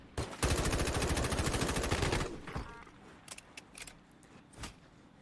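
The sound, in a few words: gunshots in video game Warzone Mobile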